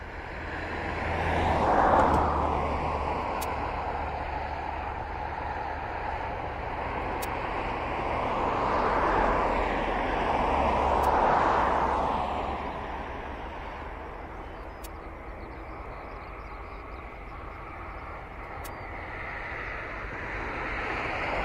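Outdoor ambience at East Midlands Airport: a broad roar of aircraft engines rises and fades in two slow swells, then settles into a steady distant rumble, with light wind noise and no voices.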